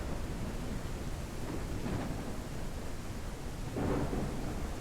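A thunderstorm with rain in the video game Ranch Simulator: a steady, soft hiss of rainfall with rolling rumbles of thunder swelling around the second and fourth seconds, fairly quiet overall.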